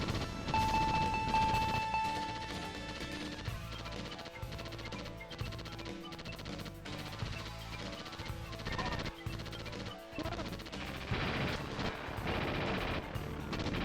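Rapid machine-gun fire from the jet in the arcade flight shooter After Burner (FM Towns Marty version), a dense continuous rattle layered with explosions, missile whooshes and game music, loud and busy throughout.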